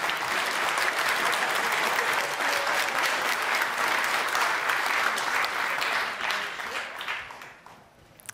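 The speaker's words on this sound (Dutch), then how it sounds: "En applaus van jezelf." Loud, full applause fills the hall at a large Frisian dictation contest event, sustained for around six seconds and then gradually dying away.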